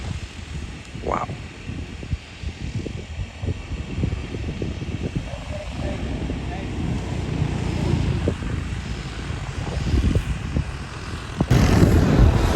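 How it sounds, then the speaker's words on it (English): A DJI agricultural drone sprays fertilizer over a rice field in Vietnam, its propeller drone a steady moderate whir under outdoor ambience, with faint background voices and a louder burst at the very end. "That is the drone spraying the fertilizers on the rice"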